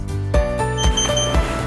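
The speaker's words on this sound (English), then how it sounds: "A long beep sound alarm will be heard, which means that the registration was successful." An Ozone OZFL-402-F fingerprint door lock gives loud, close electronic beeps in a quick series of tonal pulses to confirm a fingerprint registration. No voices are heard.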